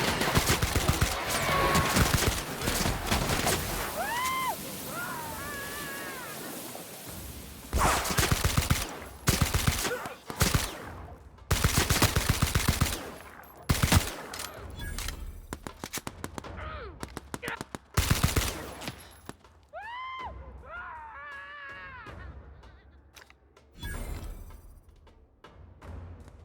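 Gunfire in The Outer Worlds video game, repeated bursts of rapid automatic shots and single loud cracks in clusters, with pauses between volleys and game voices or effects in the gaps.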